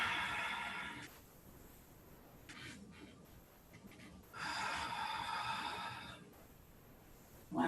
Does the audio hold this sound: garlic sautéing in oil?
no